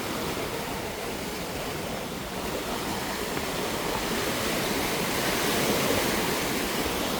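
Strong surf breaking on Boracay beach, a loud, continuous roar of waves that swells slightly toward the end, with no voices.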